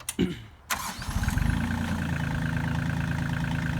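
A Kioti CK2510 HST compact tractor engine is started: a short cranking whir and a brief pause, then the engine catches and settles into a loud, steady, close rumbling idle.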